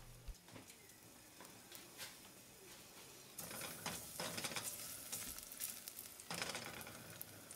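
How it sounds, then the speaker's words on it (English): Garlic cooking in olive oil in a pot gives a soft, continuous sizzle with light stirring clicks, growing somewhat louder partway through, with no one talking. "I'm just going to drizzle on some olive oil. Then I'm going to add in our garlic"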